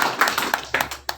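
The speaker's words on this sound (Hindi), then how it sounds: "जोरदार ताली।" Applause at a Republic Day celebration held at a journalists' association office in Jaipur, a short burst of several hand claps in an uneven rhythm.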